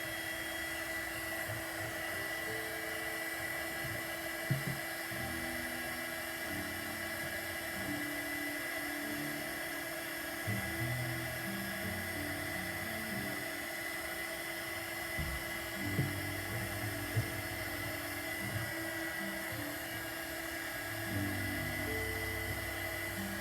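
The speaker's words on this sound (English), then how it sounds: "put the heat gun on it, hopefully melt it" A heat gun blows steadily on cold, hardened wax in a wax warmer, giving a loud, continuous airy whir with small bumps and shifts in pitch throughout.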